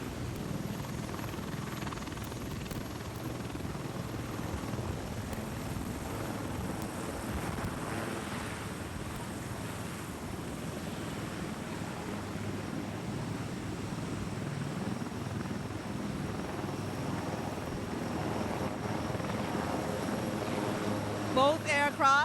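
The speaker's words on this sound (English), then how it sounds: "what you're hearing is a combined backwash of 2 helicopters" A steady, heavy whooshing roar of the combined rotors and downwash of two helicopters at Up Park Camp, Jamaica Defense Force headquarters, fills the air continuously, buffeting like strong wind against the microphone.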